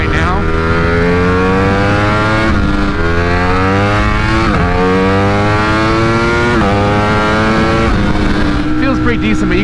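A 2020 Ducati Streetfighter V4 with a flash-tuned ECU, running in race mode, accelerates hard through several gears. Loud, close engine howl rises in pitch, then drops at each quick shift, repeating steadily to the end.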